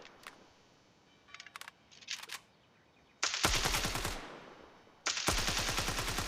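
Rapid bursts of automatic gunfire in the video game Standoff 2, a few short scattered shots first, then two long loud sustained volleys, close and without talk.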